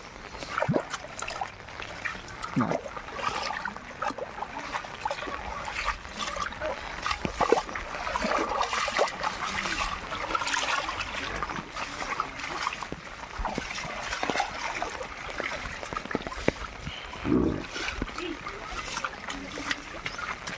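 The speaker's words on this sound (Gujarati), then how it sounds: "જો નેરીમાં ફૂલ પાણી ચાલુ છે" Floodwater rushes and splashes continuously outdoors in a village stream, a steady flowing current with scattered louder splashes and occasional voices in the background.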